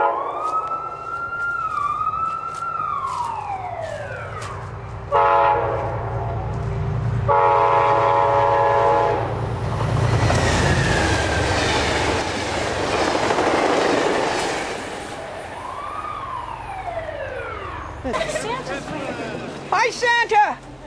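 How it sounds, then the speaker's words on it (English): A train passes Stuyvesant railroad station, sounding its horn in long falling and rising blasts over the rumble and clatter of cars rolling by, loud and close, with voices heard at times. "Oh, goody, a train is coming."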